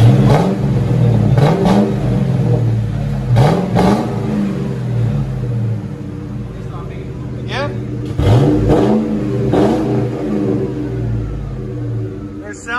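A Ford Mustang GT with a 4.6L V8 and Flowmaster Super 10 exhaust revs loudly several times, with sharp throttle blips rising and falling over a steady rumbling idle, while people talk nearby.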